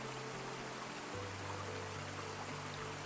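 A waterfall cascading into a pool, a soft, steady rushing wash of water, distant and even with no distinct splashes, faint under a low hum.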